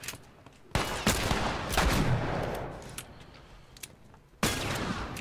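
Bursts of game gunfire during a bandit fight in The Last of Us, with sharp broadband shots at the start and again near the end and a dense noisy rattle between, loud and close with no talking.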